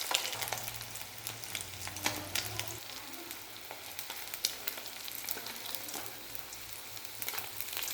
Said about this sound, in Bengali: এবার অন্য পিঠটা ভাজার জন্য